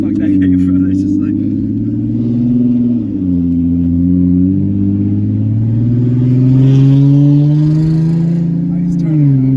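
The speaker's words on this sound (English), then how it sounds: "They definitely heard my car around the whole neighborhood." A 2003 BMW E90 car engine revs loudly and continuously up close, its pitch rising and falling in long sweeps, with faint voices in the background.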